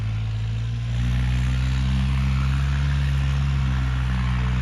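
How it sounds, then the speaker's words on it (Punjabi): A tractor engine fitted with a silencer runs steadily with a deep, even, muffled drone, growing slightly louder after the first second and holding constant throughout. "ਆਪਣੇ ਟਰੈਕਟਰਾਂ ਨੂੰ ਆਵਾਜ਼ਾਂ ਦਾ ਫਰਕ ਆ ਸਲਾਂਸਰ ਲਾਉਣ ਨਾਲ"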